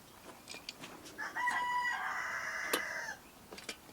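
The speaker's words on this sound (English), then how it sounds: "I hear you, Rooster." A rooster crows once in the distance, a drawn-out strained call, with a few faint clucks and small noises around it.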